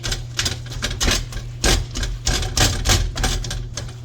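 Knife chopping candied sweet potatoes on a cutting board: rapid, steady close-up knocks in a continuous irregular rhythm, loud and with no speech over it.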